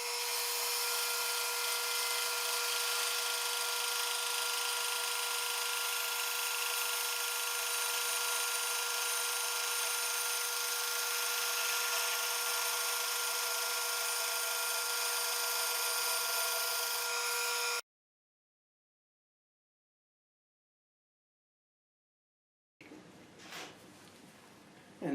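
A thin veneer saw slices Tigerwood into slices 25 thousandths thick for marquetry, giving a loud, steady, continuous high-pitched cutting whine for about eighteen seconds before stopping abruptly, followed by silence and a brief faint noise.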